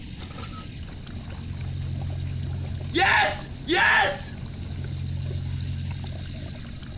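Liquid gushes out in two short bursts inside a VR submarine video game, the splashing loud and close and followed by an excited voice.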